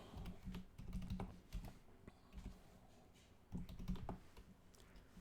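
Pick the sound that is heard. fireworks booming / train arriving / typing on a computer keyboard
typing on a computer keyboard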